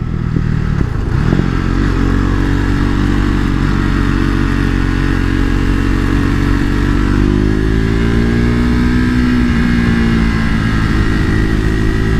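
A motorcycle engine drones loudly and continuously at close range on a race track, its pitch climbing and easing as the bike accelerates through turns.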